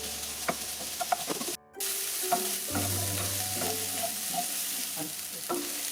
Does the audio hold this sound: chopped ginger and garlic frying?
yes